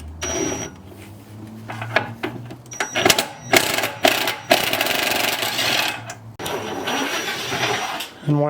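Hand-tool work on the four nuts of a Jeep XJ transmission mount: metallic clicks, ratchet-like rattles and clanks come in irregular bursts, close by, with brief gaps and no clear talk.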